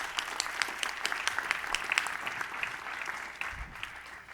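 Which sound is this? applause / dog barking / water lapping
applause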